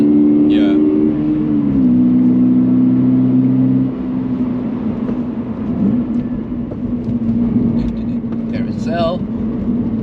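A BMW M4 speeds up with steady engine drone and tonal whine that shifts pitch as traction control intervenes, loud and continuous throughout with some background noise.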